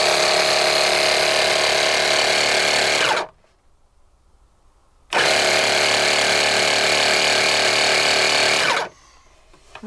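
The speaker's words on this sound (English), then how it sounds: "I have an air compressor that has quite a pretty good startup surge" A 12V air compressor powered from a Bluetti AC70 portable power station runs loudly in two steady bursts, about three seconds and four seconds long, separated by a short near-silent pause.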